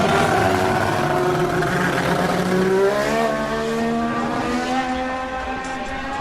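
A McLaren MP4 Formula 1 car with a Honda engine, Senna's car, roars past with a loud, high-revving scream whose pitch rises and then drops as it goes by.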